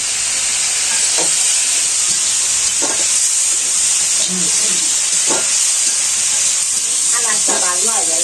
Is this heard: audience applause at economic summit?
no